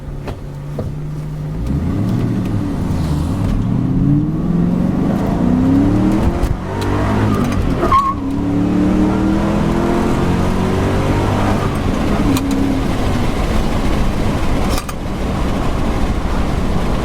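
A 1997 Ford Mustang Cobra at full throttle accelerating hard uphill: a loud, close engine roar climbing in pitch through several gear changes, with brief dips between shifts across the whole run.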